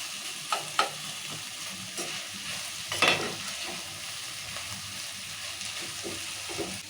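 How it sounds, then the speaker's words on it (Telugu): Onion and tomato for an egg curry sizzle in oil in a pan while a spoon stirs, with scattered clinks and scrapes over a constant close frying hiss. "నూనె ఇట్లా మగ్గించుకుంటే మంచిగా ఉల్లిగడ్డ టమాటా మంచిగా మగ్గినది"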